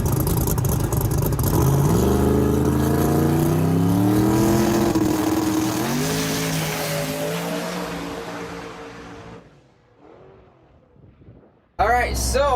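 A ProMod drag race car called The Wagon, a converted pastor's car, roars loudly through a pass with rising and falling engine pitch, fades into the distance, then a sudden loud burst returns near the end.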